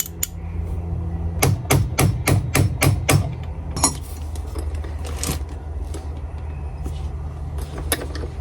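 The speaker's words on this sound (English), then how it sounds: "all I'm gonna do is literally tap this pin in" A hammer tapping a pin through a punch while working on a Honda Civic Si: a quick series of about six sharp metallic strikes, then a few scattered taps and clinks, with a car idling faintly behind.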